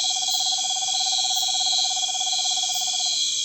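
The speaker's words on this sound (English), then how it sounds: "And now the Middle American screech owl begins its nocturnal trill." A Middle American screech owl gives a steady, rapid trill at dusk near plantings, a continuous purring series of notes held for about three seconds over dense insect buzz.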